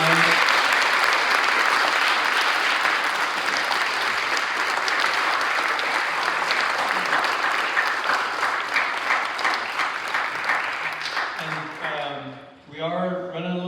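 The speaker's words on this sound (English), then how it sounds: "Please give him a round of applause tonight." A candidate forum audience applauds in a sustained, dense burst of clapping that holds steady for many seconds, then thins and tapers off near the end as a voice begins to speak.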